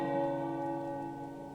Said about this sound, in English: There's a ringing. The tower bells are ringing.